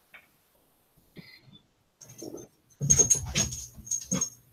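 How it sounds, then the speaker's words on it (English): A ship crew's dog barks in a few scattered yelps and short bursts, growing louder and denser toward the end, fairly close and with no talk. "the crew's dog starts barking at the rocket fighter as it starts coming in"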